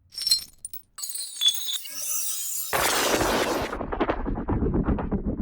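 Broken glass handled in a kitchen, with bright clinks and scraping shards at first, then a dense, crunching shatter-like wash of glass fragments that continues to the end.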